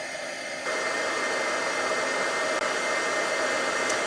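A heat tool melts white embossing powder on a stamped card. Its steady, breathy blower roar switches on after a moment and holds loud and even to the end, with nobody speaking.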